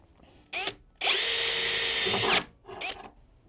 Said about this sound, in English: We're starting off just drilling the first hole